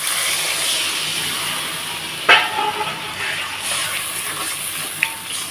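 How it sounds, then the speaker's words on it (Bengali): Broth poured over a frying mango mixture, steady close bubbling and hissing as it comes to a boil, with a sharp clatter near the middle and a brief tap toward the end. "দেখো আমি ঝোলটা দেওয়ার পরে সুন্দর ফুটে আসছে"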